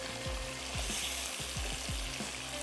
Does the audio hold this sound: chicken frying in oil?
yes